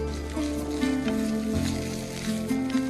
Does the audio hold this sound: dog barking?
no